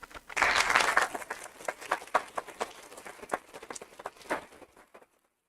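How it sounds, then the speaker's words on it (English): Applause at a school board meeting: a short burst of many hands clapping at once quickly thins to scattered single claps that taper off and stop near the end, leaving silence. "Sounds like I might need to limit the applause to 3 minutes also"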